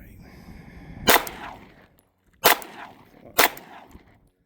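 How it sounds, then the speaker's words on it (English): Three sharp, loud pistol shots from a P320 M18 ring out outdoors, spaced a second or so apart, each cracking and then trailing off in a brief echo. "That was way too many shots."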